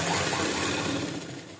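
A sewing machine stitches a round-type blouse lining in a short, continuous, close-up mechanical hum.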